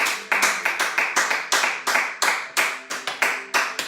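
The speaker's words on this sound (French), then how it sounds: "Nous allons acclamer pour la gloire de Dieu." A church congregation claps in praise of God, sharp rapid claps in a fairly steady, loud rhythm from a crowd close by, with faint voices mixed in.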